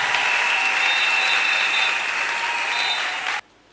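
A church congregation applauds and cheers loudly for Jesus Christ, a dense, steady roar of clapping with shouts that carries evenly before cutting off abruptly into silence.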